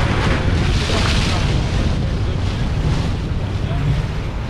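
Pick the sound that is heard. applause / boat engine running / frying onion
boat engine running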